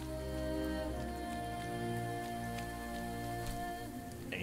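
Steady rain patters down in the Viking-era game Expeditions: Viking, a soft continuous hiss with scattered drips over a low droning ambient tone, with no one speaking.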